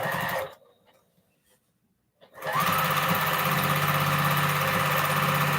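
A sewing machine stitches fabric scraps together for crumb piecing, a loud close mechanical whir that cuts off briefly into near silence, then restarts and runs steadily.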